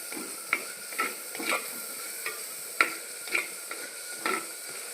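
Ginger paste and cloves being stirred in a clay biryani pot, with a spoon scraping in several short, evenly spaced strokes over a soft steady sizzle, close and moderately quiet.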